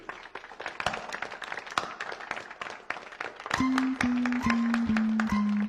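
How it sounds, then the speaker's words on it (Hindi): Classmates clapping for Ravi in a classroom, a scattered run of sharp individual claps that thickens into brief group clapping, with a sustained musical tone layered over the latter part. "चलो रवि के लिए तालियां।"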